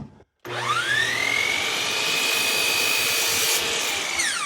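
A power saw trims the end off a wooden console table blank: the motor whine rises quickly, then holds a steady, loud, close tone for several seconds before winding down.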